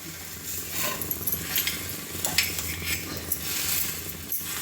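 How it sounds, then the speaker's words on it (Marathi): A layered lachha paratha roasts with ghee on a tawa, giving a soft, continuous sizzle punctuated by light scraping and clinks of a spatula on the hot pan, with no talking. "तव्यामध्ये भाजून घेऊया."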